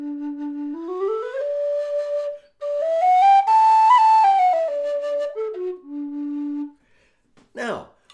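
A Carbony whistle plays a clear, pure melodic line that climbs step by step, holds high notes, then descends back to a low sustained note, loud and close, with a short noisy burst at the end.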